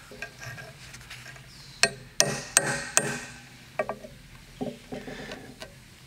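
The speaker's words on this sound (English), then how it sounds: "let's use my favorite, which is the center punch test" A center punch is struck by hand on a gray cast iron part, giving several sharp metallic taps of uneven spacing, some in a quick cluster, close and clear against a quiet shop background.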